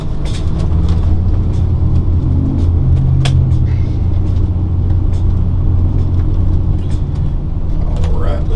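A 1999 Winnebago Chieftain 36LP Class A diesel motorhome with a 275 Cummins engine rumbles steadily while driving up a highway, a loud continuous low drone with road noise and occasional interior rattles.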